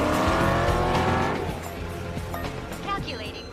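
Cars racing in an animated street-racing comedy, with loud engine roar and squealing tires fading from a dense burst into a lighter, more distant run under speech.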